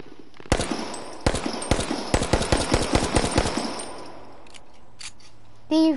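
Pistol firing rapidly in H1Z1, a quick burst of sharp cracking shots in uneven rhythm at moderate distance, then quiet ambience.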